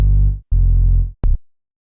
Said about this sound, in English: So it's just a sine wave, just a plain sine wave, and it's got this sync half window on it.